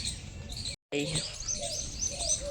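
Sparrows and mynas chirping outdoors near a village home, short bright tweets repeating over a constant background hiss, with a brief gap of silence early on.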